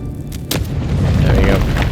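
A grenade blast in the fantasy video game Avowed, a deep loud boom that swells and keeps rumbling low for nearly two seconds, with a brief crack near the start.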